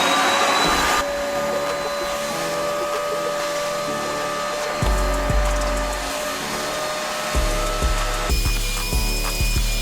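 A carpet extractor vacuum runs steadily during car interior detailing, with a loud continuous whine and hum and intermittent low thumps and clunks as it works. No one speaks.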